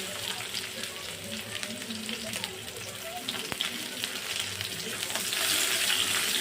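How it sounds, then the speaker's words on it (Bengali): Chopped onion, bay leaf and whole cumin frying in hot oil, a continuous close sizzle with faint stirring and a brief clatter, swelling slightly louder toward the end. "ওই তেলের মধ্যে মেয়ে তেজপাতা গোটা জিরে ফোড়ন পেঁয়াজ কুচি"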